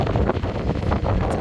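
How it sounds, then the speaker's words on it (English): Wind gusting on an exposed hiking trail in Teddy Roosevelt National Park buffets the microphone with a steady, loud, broadband rush and low rumbles, with no voices. "sorry it's windy"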